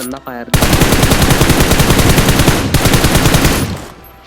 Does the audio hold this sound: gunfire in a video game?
yes